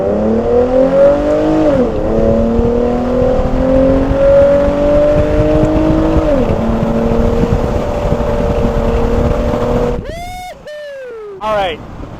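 A 1999 Plymouth Prowler accelerates hard in auto stick mode, its engine loud and close, climbing in pitch with shift steps around two and six seconds before a lift-off and a couple of quick sharp revs near the end.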